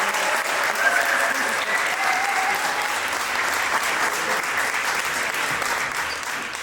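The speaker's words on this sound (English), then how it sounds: "it's a good thing you're applauding before" An audience at a launch event at The Pool applauds as the CEO is welcomed on stage. Even, sustained clapping from a crowd holds steady throughout with no pause.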